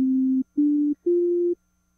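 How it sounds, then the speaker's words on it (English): Three short, pure sine tones in a row, each held under half a second with brief gaps of silence, pitch stepping slightly upward. "So now we have a sine tone playing."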